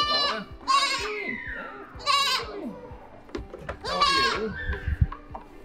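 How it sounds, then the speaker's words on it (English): Goats on a farm bleat repeatedly at close range, with several long wavering calls spaced a second or two apart and quieter rustling and shuffling sounds in between. "Hello, goats."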